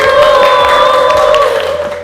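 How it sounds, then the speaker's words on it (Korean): Applause from an audience at a company sales competition awards moment, steady dense clapping held loud and close for about two seconds while a tonal musical sting plays over it. "박수!"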